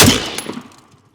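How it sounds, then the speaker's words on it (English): AR rifle fired without a suppressor: a single sharp, loud report with a bright crack, followed by a quickly decaying echo tail, no voices. "This is the control round to see how much flash we're going to get. No suppressor on this one."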